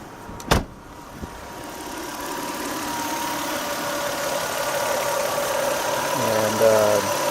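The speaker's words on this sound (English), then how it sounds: "So the engine's running." A 1997 Lexus ES300 engine idles steadily after valve and lifter replacement, a smooth continuous hum close by, with a sharp knock early on and a brief whine near the end.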